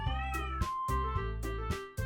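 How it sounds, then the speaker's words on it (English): A domestic cat meows loudly and insistently, four drawn-out, strongly voiced calls in a row, close and clear, with short gaps between them. "The cat's shouting."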